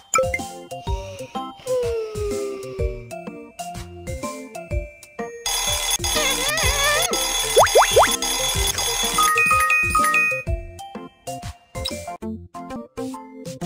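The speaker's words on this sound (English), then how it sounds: "Let's put an alarm." Electronic alarm clock ringing in a children's puppy care video game, a bright jingling chime burst that stands out loud for several seconds between lighter game tones and effects, with no talking.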